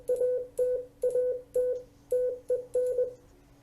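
Morse code tones sent at 20 words per minute by a CW instructor, a clear steady beep forming quick dot-dash groups in seven or eight bursts, close and alone with no talk.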